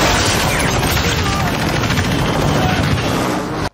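Helicopter in a Falcon and the Winter Soldier action scene, a loud, dense rotor-and-engine roar sustained over nearly four seconds amid crashing, gunfire-like bursts, cutting off abruptly at the end.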